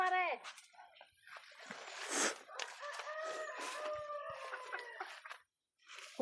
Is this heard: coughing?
no